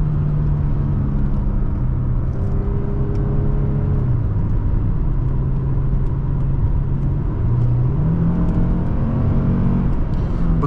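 A 2007 Lexus GS350 AWD accelerates hard from inside the cabin, its engine note climbing steadily through the revs with a continuous loud road and wind roar and no talk.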